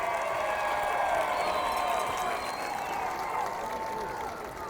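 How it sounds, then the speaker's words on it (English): Sustained crowd applause and cheering for Simon Kenton cheerleaders at a night high school football game in a stadium, a steady, dense wash of clapping that holds for several seconds and slowly eases. "Let's give them a big round of applause."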